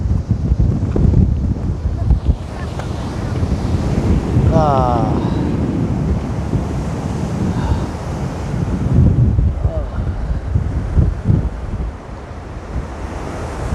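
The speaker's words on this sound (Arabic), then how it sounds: "بغيت نشارككم هذه السنفونيه الرائعه، زبد البحر" Rough Atlantic sea surf crashing and foaming under strong wind, a continuous loud roar of breaking waves with gusty wind buffeting the microphone and a brief tonal squeal partway through.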